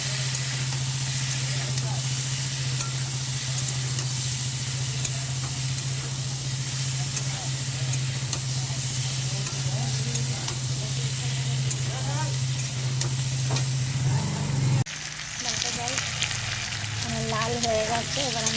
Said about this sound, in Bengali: এবার আমি এঁচোড় আলুটা দিয়ে দেবো। একটু লাল লাল করে ভেজে নিতে হবে।